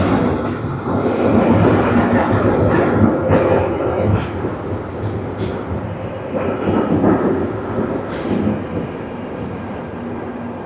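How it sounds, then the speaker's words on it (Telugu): A London Underground train arrives at a station with a deep rumble of rolling wheels and bursts of high squealing from the rails, loud and close the whole time, with no talking. "లండన్లో అండర్ గ్రౌండ్ నుండి వస్తుంది ట్రైన్"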